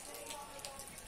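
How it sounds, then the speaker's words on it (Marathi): A light, fine drizzle of steady rain falls continuously, a faint, even hiss of small drops with no voices. "मोठा असा नाही पाऊस, बारीकच आहे, तर सारखं चालूच आहे"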